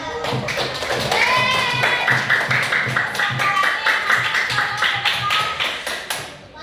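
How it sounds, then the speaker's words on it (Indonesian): Schoolchildren in a sixth-grade classroom clap their hands together in a rhythmic, repeated pattern, with young voices calling out over the clapping. "Tepuk tangan."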